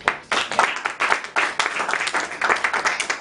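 A crowd at a jazz concert applauds a guitarist from an Afro-Latin ensemble, dense, lively clapping, loud and close, with a few rhythmic surges throughout.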